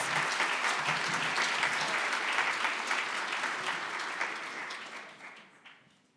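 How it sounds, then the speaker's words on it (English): Conference audience applauding a speaker at the end of a talk, dense sustained clapping from a room full of people that holds steady and then fades out over the final second. "deserves a big applause"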